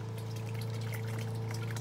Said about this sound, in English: he's opening up some glyphosate. It's a weed and grass killer. I don't know the exact measurements, so he's just going to pour in